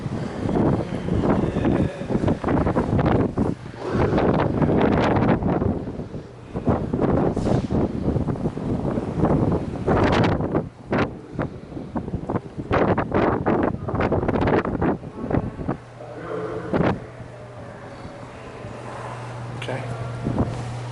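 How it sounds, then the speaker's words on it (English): Strong wind during an RV trip at East Harbor roars and buffets the microphone in loud, sustained gusts that ease near the end, with voices speaking now and then. "the wind's coming through there, it's pretty crazy"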